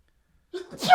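A single sudden sneeze close by, a short wheezy intake followed by a sharp burst, after silence.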